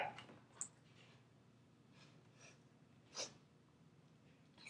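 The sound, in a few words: sniffles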